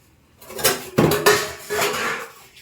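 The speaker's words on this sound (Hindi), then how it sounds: "बर्तन की आवाज तो आ रही थी" Dishes, pots and cutlery clatter in a few sharp, close bursts as they are washed, with a brief pause between the clanks.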